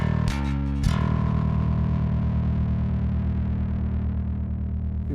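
Bass guitar driven through a Lusithand Ground and Pound MKII distortion pedal: two picked attacks, then one thick, gritty note that sustains loudly for several seconds without talk.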